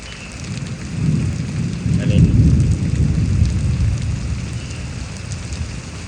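Rain and thunder following a lightning strike in Houston, Texas: steady close rainfall hisses throughout while a deep, rolling rumble of thunder swells and fades underneath, with no voices.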